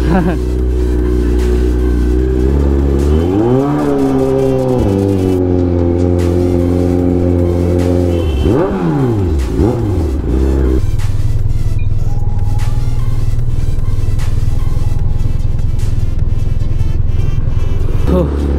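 Kawasaki Z900 superbike engine revving loudly near a busy market, rising in pitch through two sharp throttle sweeps, then settling into a heavy, steady roar, with voices mixed in.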